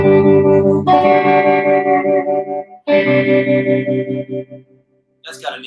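An electric guitar runs through an opto tremolo with a vintage Fender-style amp reverb, sounding two sustained, wavering chord swells that ring out and decay under a reverb tail, with a brief pause before a final short burst.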